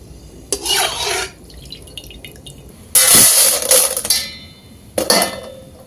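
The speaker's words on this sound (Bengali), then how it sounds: "এরকম দুটো হাতার সাহায্যে আমি ডালগুলো তুলে নিলাম" Two ladles lift fried chana dal out of hot oil, making three short bursts of scraping, clattering and sizzling separated by quiet pauses, close and clear with no one speaking.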